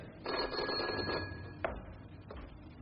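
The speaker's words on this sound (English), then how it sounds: "The telephone, Theremin" An old telephone rings in a comedy audio drama, one long trilling bell burst that stops, followed by two fainter short rings spaced apart, moderately close with no talk over it.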